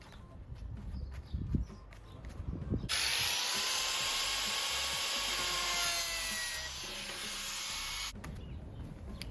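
A hole is cut during the conversion of a Mercedes Vario van to fit an iMass instantaneous water heater: a steady, rasping cutting stroke runs for about five seconds after some knocks, close and loud, then stops abruptly.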